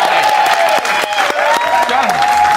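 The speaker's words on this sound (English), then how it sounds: "Shabby, give her a big round of applause" Loud sustained applause from a TV studio audience, dense clapping with a few whoops over it.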